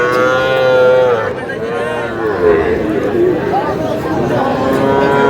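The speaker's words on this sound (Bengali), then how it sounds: "শাহিওয়ালের ষাঁড় বাচ্চা" Young Sahiwal bull calves lowing at a cattle market, several drawn-out moos close by, with people talking and crowd chatter throughout.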